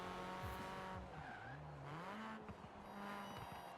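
A race car in a track-day setting revs through gear changes with a rising and falling exhaust note, layered with tire squeal, heard faint and steady.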